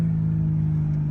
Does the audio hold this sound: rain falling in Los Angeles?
no